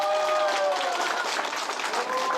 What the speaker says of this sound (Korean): 다시 한번 박수 한번 주세요.